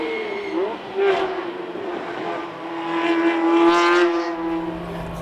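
A Ferrari 430 Scuderia runs at full throttle on a track, its engine note rising and falling through gears, close and loud, with a voice talking over it.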